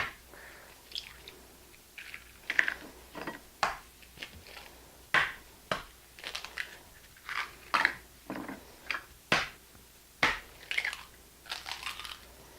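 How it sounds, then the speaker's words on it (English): Eggs being cracked one after another into a bowl of whole wheat flour, with shells tossed back in: a string of sharp, close taps and crunches at an uneven rhythm, clear and unaccompanied by talk. "into that I am going to crack 8 eggs"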